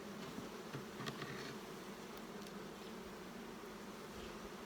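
Honeybees from a wintered nuc colony, tipped back on its hive, make a steady, faint, continuous buzzing hum with no voices.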